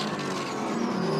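Pirelli GT4 America race cars mixed in traffic at Sonoma, engines droning loudly together with a rising pitch as a car accelerates past, continuous through the brief moment.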